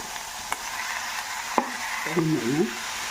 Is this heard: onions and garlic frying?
yes